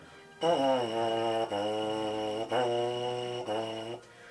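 A buzzing brass mouthpiece plays a sustained pitch broken into four separate notes by short tongued articulations, close and steady.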